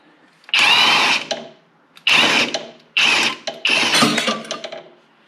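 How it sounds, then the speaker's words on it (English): An impact wrench hammers at a 5/8-inch nut on a Hustler zero-turn mower's clutch in four loud, close bursts separated by short silences, the last burst trailing off unevenly. "I do have my impact to remove it"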